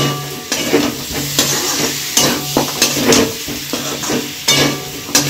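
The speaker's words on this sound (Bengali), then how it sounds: "আমি একটু নেড়ে নেব" A spoon stirs garam masala powder into a biryani pot of mutton, egg and potato, making loud close scraping strokes at an uneven rhythm over a steady frying sizzle.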